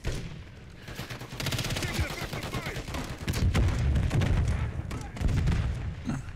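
The KV Inhibitor sniper rifle in a video game, fired rapidly in a dense, continuous string of sharp shots, with someone talking over the gunfire.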